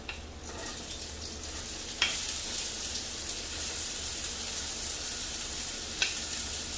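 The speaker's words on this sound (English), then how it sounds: "now that my pot's pretty hot, got some oil, let's add the onion" Chopped onion hitting hot oil in a pot for a Bolognese, giving a steady, close frying sizzle with a couple of sharp crackles along the way, and no voices.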